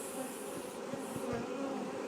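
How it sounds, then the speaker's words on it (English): Honeybee swarm buzzing inside a hive three days after being housed, many bees clustered on the roof surface; a dense, steady close-up hum with no voices. "There's a lot of bees on that roof surface."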